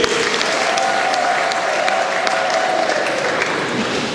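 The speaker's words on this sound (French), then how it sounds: "On acclame pour monsieur l'abbé." Audience applauding a priest of the Sainte-Anne parish at an 80th anniversary celebration, a dense, steady patter of clapping from a crowd throughout, with a voice faintly beneath.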